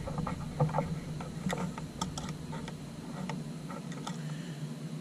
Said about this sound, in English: Let's see if we can use a knife to remove the rest of this.